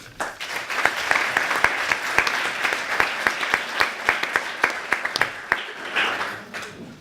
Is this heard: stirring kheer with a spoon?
no